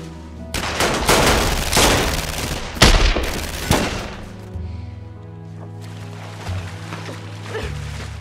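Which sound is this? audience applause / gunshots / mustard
gunshots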